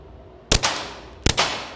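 Two suppressed Glock 44 shots firing subsonic .22 rounds through a Huxwrx 22 Ti suppressor at an outdoor range, each a sharp muffled crack with a short tail, spaced under a second apart.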